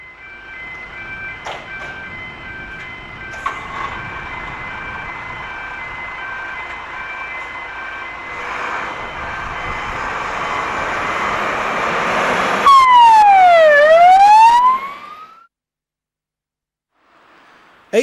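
A steady tone and engine rumble build, then a Surrey Fire & Rescue Service fire engine's wailing siren sweeps up and down loudly on an emergency call before cutting off into near silence.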